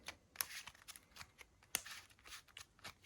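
Yu-Gi-Oh card deck being shuffled by hand, a quick run of soft riffling and flicking card sounds with a couple of sharper snaps, close and fairly quiet, no voices.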